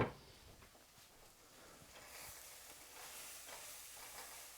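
Garlic dropped into a hot pan for lamb ragout gives a soft, steady sizzle and hiss with light stirring, fairly quiet and close, with no talking.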